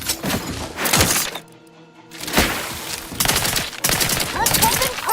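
Gunfire in the video game The Outer Worlds 2, loud bursts of automatic shots and impacts with a short lull midway, then heavy firing resumes, close and dominant.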